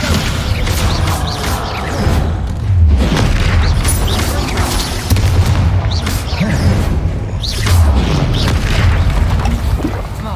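Booming magical blasts from a Bombarda spell in Hogwarts Legacy, several loud low-heavy explosions rolling through continuous dense combat noise, with faint voices underneath.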